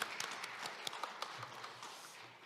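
Scattered, fairly faint clapping from a forum audience at the close of a session, individual claps audible as uneven taps rather than a dense roar.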